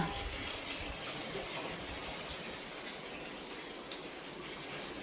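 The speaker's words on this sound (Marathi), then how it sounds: "टाकीला पाणी चालू आहे वर" Steady broadband rush of water pouring into a tank, continuous and even throughout, with no breaks or voices.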